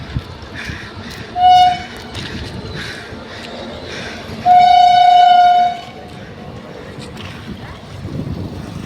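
A train rumbles past steadily, sounding two loud horn blasts, a short one and then a longer one lasting over a second, with faint voices in the background.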